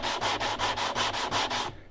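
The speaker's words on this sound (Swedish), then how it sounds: "Nu när du har sågat rent och allting, då är det dags att grovslipa kanterna." A sanding block rough-sands the sawn edges of a wooden box, seven quick, steady back-and-forth rasping strokes, loud and close, with no voices.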